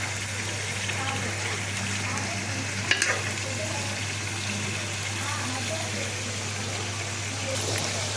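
Paste fries in hot oil as a steady, soft sizzle with a constant low hum underneath and a brief clink of stirring partway through, while someone talks.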